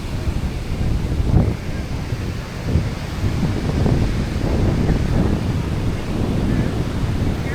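Strong wind on a Boracay beach buffets the microphone in loud, rumbling gusts that swell and fall, with a faint rush of surf underneath.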